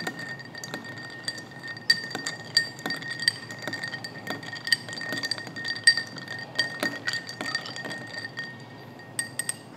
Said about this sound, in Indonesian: Ini kan kita aduk.